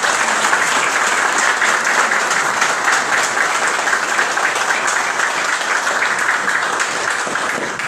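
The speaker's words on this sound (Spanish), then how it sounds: "Yo pienso que debemos dar un aplauso poniéndonos de pie." Sustained audience applause fills a swearing-in ceremony for a new director general of CORAAMOCA, dense steady clapping from a large crowd, loud and continuous throughout without pause.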